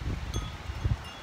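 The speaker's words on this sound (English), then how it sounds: "Windy." Short gusts of November wind buffet the microphone, low rumbling thumps over a faint rustle, brief and close.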